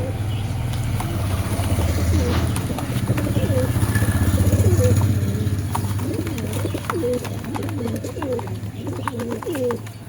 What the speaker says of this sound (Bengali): এসব ম্যাড্রাস সব হাই ফ্লাইয়ের ম্যাড্রাস পায়রা আছে